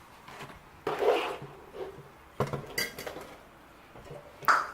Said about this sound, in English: we're going to stir it in